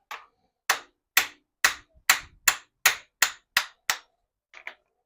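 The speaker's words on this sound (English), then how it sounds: "just a little force with this baby hammer" A small hammer punches out a bearing from a Toyota Celica RA24 part, striking metal about ten times in a steady rhythm, crisp ringing taps close up, ending with a couple of lighter knocks.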